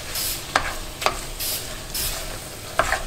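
Tom Yum hotpot aromatics such as garlic, lemongrass and butter sauté in a pan, a steady close sizzle broken by a few sharp scraping stirs.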